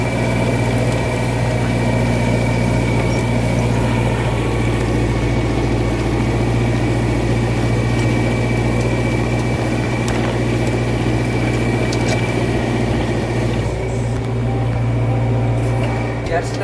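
A Massey Ferguson 5450 tractor labors in a stony, hilly, hard-packed field, its engine droning in a loud, steady low rumble with constant harmonic hum close by, while someone talks over it.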